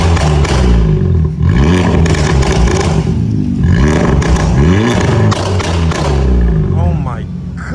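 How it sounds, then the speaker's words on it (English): Hyundai Elantra N with a loud single-exit exhaust revs repeatedly, with rising and falling engine pitch in close, heavy bursts and some voices over it. "We're gonna have Logan do some revs."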